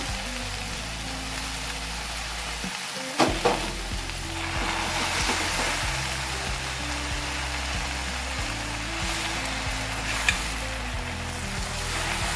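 Gongura leaves fry in a hot pan with a steady, dense sizzle. A sharp clatter of stirring comes near the start, then the frying hiss continues evenly, close and fairly loud.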